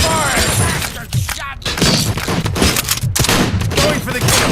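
Robot gunfire from the RoboCop: Rogue City video game comes in dense, rapid bursts of shots and impacts, loud and close, with only brief gaps between volleys.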